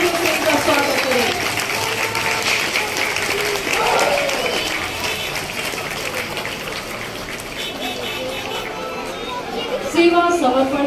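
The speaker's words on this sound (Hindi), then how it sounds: "एक बार जोरदार तालियों से इसका स्वागत करें" A crowd at the Dehradun police lines applauds a flag march contingent led by a woman inspector, a steady, fairly loud wash of clapping that runs the whole time, with crowd chatter and voices mixed in.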